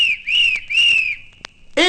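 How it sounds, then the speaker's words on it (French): Three short, high whistle tones sound one after another, steady and clear, followed by a brief chime-like ring. "vous entendrez 3 petits coups de sifflet comme ceci"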